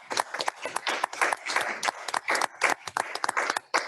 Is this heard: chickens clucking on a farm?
no